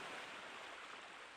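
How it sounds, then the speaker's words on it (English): Ocean waves crash in Persona 4 Golden, a broad, steady wash of surf heard alone, soft and unbroken for a brief moment. "The only sound you hear is the crashing of the waves."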